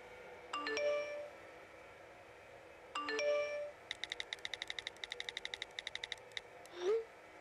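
Two bright chiming phone text message alert tones sound a couple of seconds apart in the cartoon Family Guy, followed by a quick run of light tapping clicks, like typing on a phone.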